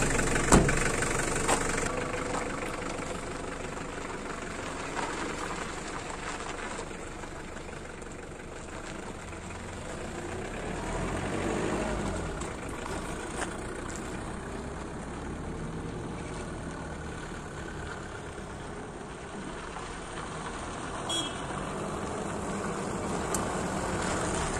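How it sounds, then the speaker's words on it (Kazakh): A Hyundai Porter truck's engine idles steadily and evenly for the whole stretch, a close, continuous mechanical rumble with light surrounding noise and no speech. "Мына жигиттер, мотордун иштеши."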